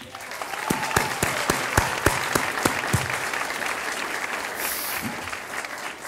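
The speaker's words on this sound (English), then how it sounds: "And that deserves applause." Guests at a university anniversary gala applaud warmly, dense clapping close by with a few sharp individual claps standing out over the crowd.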